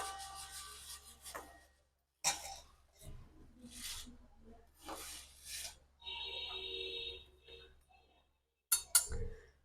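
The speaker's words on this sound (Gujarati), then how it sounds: "આ રીતે સેસે જ આમ ચમચેથી આપણે હલાવતો જવાનો" A spoon scrapes and clinks against a pan while stirring frying seeds, in intermittent stirring strokes with short pauses between bursts.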